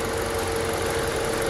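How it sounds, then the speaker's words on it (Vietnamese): A 2018 Hyundai Accent's engine idles steadily with no one talking, a constant mid-pitched hum and even vibration running the whole time. "động cơ đang nổ nữa nè"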